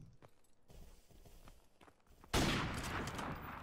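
A gunshot in a video game bursts in loudly and abruptly after a stretch of quiet footstep-like tapping, then rings on as a sustained, noisy blast to the end.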